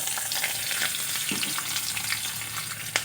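Urad dal and slit green chillies are tempered in hot oil with a loud, steady sizzle and crackle up close, plus a few faint stirring taps.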